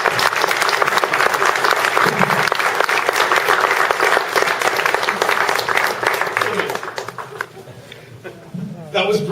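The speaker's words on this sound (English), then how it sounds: "Another round of applause for the man while we get set." A conference audience at a SIGGRAPH 2011 WebGL session breaks into sustained, loud applause after a talk, dense clapping that thins and fades toward the end as a few voices murmur.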